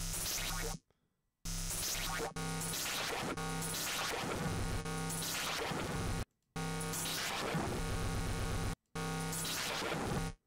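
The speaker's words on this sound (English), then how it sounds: "echo also works on the amplitude envelope. So we have some crazy thing like this when we turn on echo" NI Razor synthesizer with echo applied to its amplitude envelope, producing harsh buzzy synthetic tones that sweep and repeat in pulsing echoes, cutting out abruptly in several short silent gaps.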